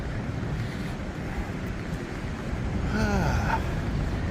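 Ocean waves and wind while cruising: a continuous rushing wash of surf and gusting wind, fairly loud and steady, with a brief faint chirping near the end.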